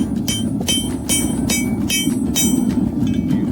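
Hammer taps on a railroad spike being worked with a scrap steel drift in a blacksmithing shop: a steady series of sharp metallic ticks over a continuous rumbling background noise.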